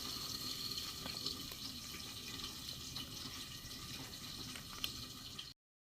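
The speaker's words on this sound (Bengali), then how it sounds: "এতে আমি একটুখানি জল দেবো।" Water poured into a thick yellow batter for a pumpkin chop: a steady, faint trickle and splash running for about five seconds, then stopping suddenly into silence.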